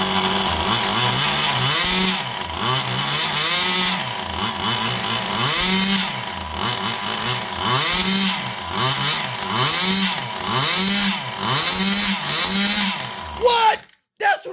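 An old Compagnucci Super Beetle engine warms up, revving in steady repeated rising-and-falling surges, loud and close, with a rough buzzing tone before cutting off abruptly near the end.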